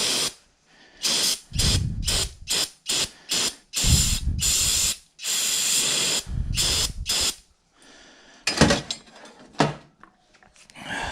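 Aerosol brake cleaner sprayed in a run of short and longer hissing bursts during a Ford Mazda M5OD-R2 shifter rebuild, close and loud, with a few rattling clicks of parts between sprays and no talking.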